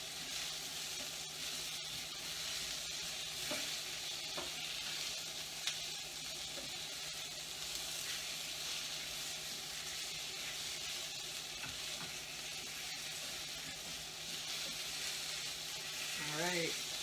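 Onions and mixed vegetables frying in a pan for breakfast tacos, a steady soft sizzle running throughout with occasional light stirring clinks.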